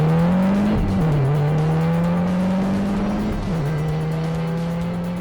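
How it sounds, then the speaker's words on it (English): Porsche 944 race cars pulling away from a standing start, a dense engine drone rising in pitch, dipping as gears change, then climbing again, loud and continuous with a noisy wash of several cars together. "Race 2 on Sunday morning saw the top 2 from yesterday sitting on the front row again, Westaway and Bella."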